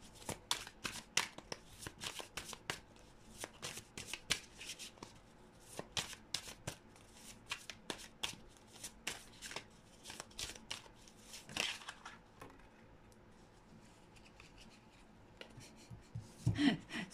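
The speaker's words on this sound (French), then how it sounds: "Je tire une carte pour mettre là-dessus." Oracle cards are shuffled and drawn in repeated quick riffling bursts and soft slaps, close and crisp, with a brief quieter pause near the end.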